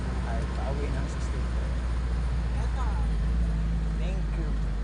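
Steady low rumble of a jeepney engine while riding, heard from inside the vehicle with a constant drone and road noise, faint voices of passengers in the background.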